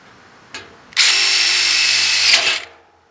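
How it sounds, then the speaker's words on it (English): A handheld power drill bores into a center-punched spot for a stainless draft door, a brief tap of the trigger, then a loud steady whine for about a second and a half before winding down. "Now that I center punched it in, it should be easier to drill"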